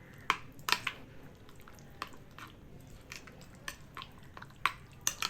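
A spoon works through a bread-snack batter seasoned with salt, Kashmiri chili powder and cumin powder, making quiet, irregular wet squelches and occasional sharp taps against the bowl.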